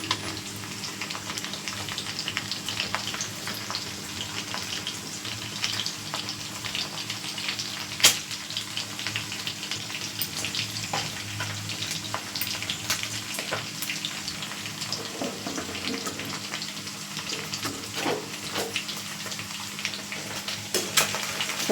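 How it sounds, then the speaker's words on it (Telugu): Chicken pieces frying in oil until golden for chicken pickle give off a steady, even sizzle and crackle throughout, with scattered small pops and one brief clatter, moderately close and alone. "అది అట్లా గోల్డ్ కలర్ వచ్చేదాకా మనం వేపేసుకోవాలి."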